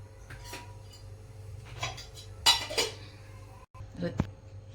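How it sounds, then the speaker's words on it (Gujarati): A metal spoon clinks a few times against a kadai on a lit gas stove as oil goes in for paneer bhurji, with sharp close taps over a steady low kitchen hum. "એમાં 2 ચમચા જેટલું આપણે તેલ લીધું."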